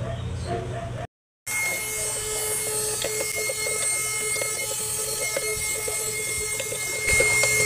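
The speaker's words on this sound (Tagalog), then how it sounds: "Yung small vacuum natin, nagagamit natin." A small vacuum cleans the air filter housing of a Mitsubishi Xpander with a steady close whirring hiss and thin whining tones. The sound breaks off briefly near the start, then runs evenly to the end.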